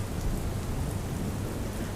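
A rain shower pours down in Morbi, Gujarat, over waterlogged streets, a dense continuous hiss of drops with a low rumbling undertone and no voices.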